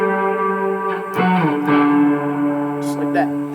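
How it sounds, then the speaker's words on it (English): An electric guitar plays a riff, with smooth sustained notes and a couple of gliding slides down the fretboard. The tone is clear and close. "try not to release, slide, so that gives you the smooth sound"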